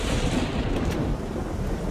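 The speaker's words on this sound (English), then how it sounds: "End of the world storms." Video game thunderstorm in Farwinds, a dense, loud roll of thunder over steady rain and wind that stays heavy throughout.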